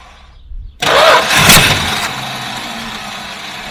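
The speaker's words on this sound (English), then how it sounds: "Starter sure does take a long time to shut off." A Charger car's engine cranks on the starter and catches, settling into a loud, steady run with the starter still engaged and whining on top.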